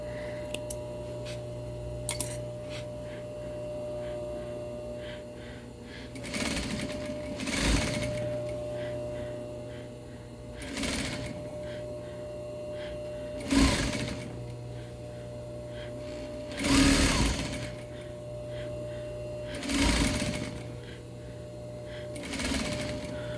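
A sewing machine stitches a quarter-inch hem on rayon in short, quiet bursts of rapid whirring, each a second or two long, separated by pauses, over a faint steady background hum.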